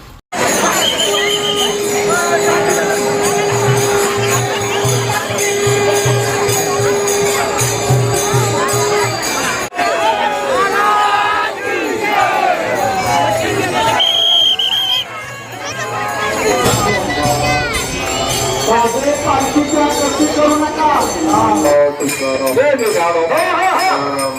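A large, dense crowd of pilgrims at a village temple during a dindi procession, continuous loud babble of many voices with children shouting and occasional clinks and bell tones throughout.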